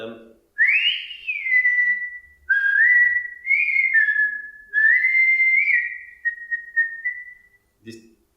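A person whistles a series of long, sliding, melodic cow-herding calls, loud and close, each phrase held and bending in pitch, separated by short pauses.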